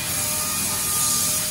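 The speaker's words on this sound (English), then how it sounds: "big day of sanding" Power sanding of a fiberglass boat hull during restoration of a Formula Sportsman, a steady close broadband rasp with constant loudness and no pauses or talk.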